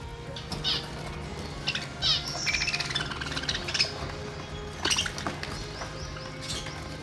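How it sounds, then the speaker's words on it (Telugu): Caged sparrows chirp and squawk in short, scattered bursts over a steady background hum, several calls overlapping at close range. "చూసిరు గదుల్లో ఇట్లా పిచ్చుకలను పెంచుకుంటున్నాడు ఈ అన్న."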